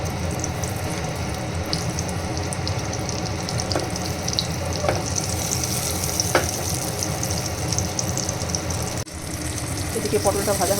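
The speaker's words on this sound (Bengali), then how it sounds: "এবার আমি পটলগুলো ভেজে নেব।" Pointed gourd (potol) pieces frying in hot mustard oil in a frying pan, a loud, close, continuous sizzle with occasional sharper crackles and a brief dip before the hiss resumes.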